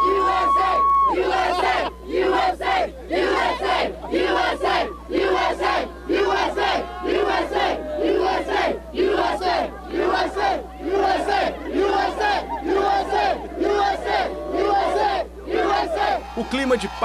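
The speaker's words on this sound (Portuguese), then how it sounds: "todos unidos num mesmo grito de alívio" A large, patriotic crowd celebrating Osama bin Laden's death chants and shouts in loud, rhythmic bursts, voices rising and falling in repeated waves of cheering at close range.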